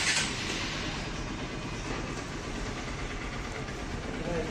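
A Honda XR 150L dual-purpose motorcycle engine runs at a steady idle nearby, a continuous even rumble with a faint mechanical clatter and no change in pace.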